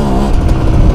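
A motorcycle engine revs up for a wheelie attempt, a steady loud throaty drone rising in pitch across one second, close to the microphone with no talk.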